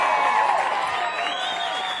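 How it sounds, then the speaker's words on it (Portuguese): Studio audience applause for Daniele Bambassi of Greenpeace, crowd clapping mixed with cheering and whoops that stays steady at moderate loudness from start to finish. "Aplausos também para Daniele Bambassi."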